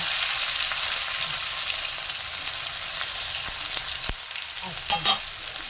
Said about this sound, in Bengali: আচ্ছা এবার পেঁয়াজটা দিয়ে দিলাম